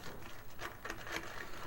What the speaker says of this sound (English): that is the rain hitting the tin roof of my trailer